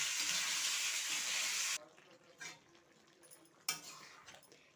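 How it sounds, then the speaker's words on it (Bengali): Mixed vegetables being sautéed with salt and turmeric, giving a strong sizzle that stops suddenly. A few faint utensil scrapes and clinks follow in near quiet. "পরিমাণ মতো লবণ আর এই যে পরিমাণ মতো হলুদ দিয়ে সবজিটা আমি কষিয়ে নেব"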